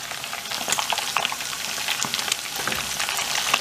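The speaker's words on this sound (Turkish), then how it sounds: "bunları böyle fazla kızartırsak tadı kaçar" Dough rings deep-frying in hot oil give a busy crackling sizzle with dense popping bursts, steady and close, with no talking.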